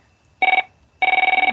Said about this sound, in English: oops, sorry for that phone